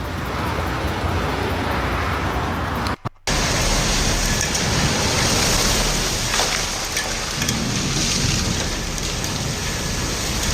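Heavy rainstorm in Medina, Saudi Arabia, with high winds: a dense, steady roar of rain pouring down, loud and continuous, broken by one very short dropout.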